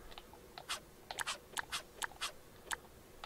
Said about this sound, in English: You guys can hear my frantic clicking.